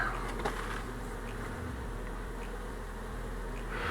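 Honey bees hum steadily around a beehive brood box, their buzzing a constant, fairly faint drone with no voices.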